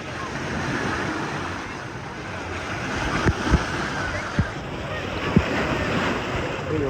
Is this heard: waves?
yes